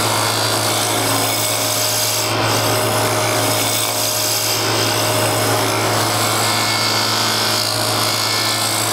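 A wood lathe spins a wooden hummingbird birdhouse blank while a cutting tool works the surface, producing a loud, steady scraping hiss over a constant low motor hum, with no talking.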